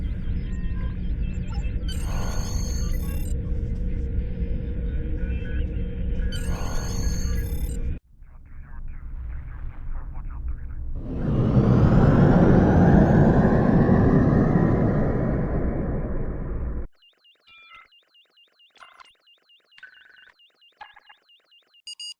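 Starship thrusters in the game Star Trek Online as a ship leaves dry dock: a low engine hum with beeping console tones gives way to a loud rising whoosh of thrust that roars for several seconds, then cuts to quiet electronic bleeps.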